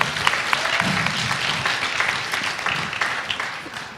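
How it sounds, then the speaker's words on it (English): Theatre audience gives a warm round of applause, a full, continuous clatter of many hands from a seated crowd that holds steady throughout. "Yes, please applaud for Mark."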